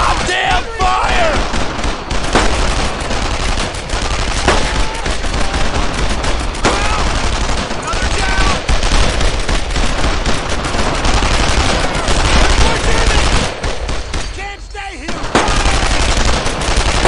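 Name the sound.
gunfire in Brothers in Arms: Earned in Blood video game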